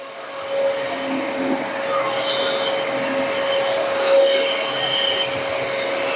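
A mid-priced vacuum cleaner with a carpet agitator runs on carpet, giving a steady close whine and rushing airflow that swells slightly as it moves, without speech.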